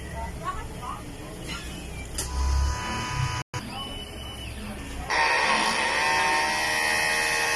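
A DTF printer runs a head cleaning cycle: mechanical whirring and buzzing with a sharp click midway, then a louder, higher motor whine that holds steady to the end, with a voice faintly present.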